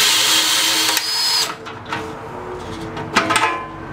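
A Milwaukee quarter-horsepower drill cuts a one-inch hole in sheet-metal amp chassis, a loud sustained whine and grind that drops away midway, followed by scattered scrapes and knocks.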